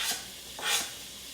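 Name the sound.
bacon sizzling in a pan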